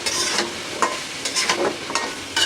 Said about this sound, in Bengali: এই চুলায় তো মিষ্টি কুমড়া ভাজি হইতেছে